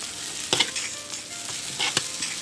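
Pad thai being stir-fried in a pan with bean sprouts, a steady close sizzle broken by a few sharp scraping stirs, with no voices.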